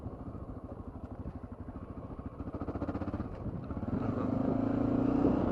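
A Honda XR650L motorcycle engine runs steadily while riding down a road, a close, continuous throbbing drone that builds in loudness and pitch toward the end as the bike accelerates.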